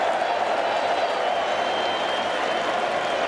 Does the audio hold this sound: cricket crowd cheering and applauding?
yes